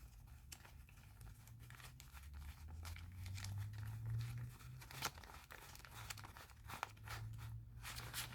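A paper envelope of Hot Wheels mail is torn open and handled, with soft crinkles, tears and rustles close by and fairly quiet over a low steady hum, with a couple of sharper crackles.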